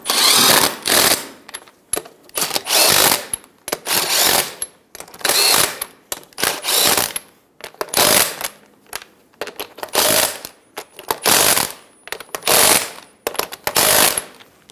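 Power tool, likely an impact wrench, snugging wheel lug nuts on a 2010-2014 Subaru Outback after a rear brake caliper install: seven loud, close bursts of rattling hammering, each about a second long, separated by short pauses.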